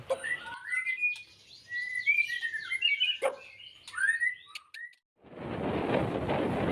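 A white-rumped shama sings a varied run of bright whistles and chirps, clear and close, then the song stops and a steady hiss of noise follows.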